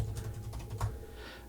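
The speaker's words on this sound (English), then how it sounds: "asks me to start typing the name of my podcast" A few quick keyboard taps click close by at a computer, a short irregular burst of keystrokes over a low hum, then a pause.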